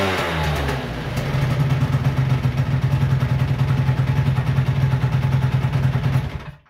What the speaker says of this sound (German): Ich gebe mal ein bisschen Gas.